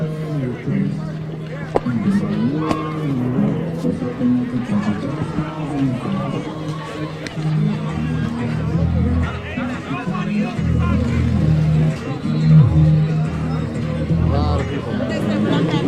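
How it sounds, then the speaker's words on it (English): Dense crowd of street protesters in Minneapolis, a steady murmur of many voices and shouts surrounding a nearby speaker, with the babble continuing loudly the whole time. "As you can see, the crowd is very thick."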